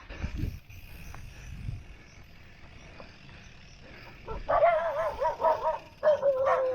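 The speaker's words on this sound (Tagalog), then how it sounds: "Talaga may aso." A dog barks and yips in quick bursts near the end, after a stretch of quiet background noise with a few soft thumps.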